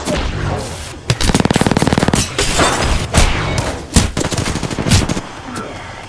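Automatic gunfire in an Apex Legends match: loud, rapid machine-gun bursts with sharp individual shots and a few heavier impacts, close up, firing in several runs with short gaps between.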